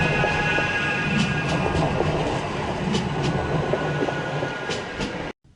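A Manchester Metrolink tram on the line toward East Didsbury rumbles steadily past close by, with rail clatter and faint metallic ticks throughout before the sound cuts off abruptly.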